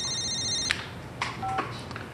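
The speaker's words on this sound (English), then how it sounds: "It was a normal working day, and I was in the office, and my mobile phone rang." A mobile phone rings in an office, giving short electronic tones in a couple of bursts, fairly close and clear with no talk.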